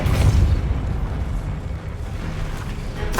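A Depulso spell cast in Hogwarts Legacy lands as a loud, low, rumbling magical blast. Its burst comes at the start and rolls on as a sustained boom, with a brief sharp crackle at the end.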